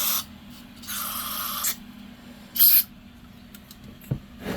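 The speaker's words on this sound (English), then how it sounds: "Can's got to stay upright. It doesn't spray upside down." An upright aerosol can sprays cleaner in two short hissing bursts, the first about a second long and the second briefly louder, against a quiet, faintly humming background with no talk.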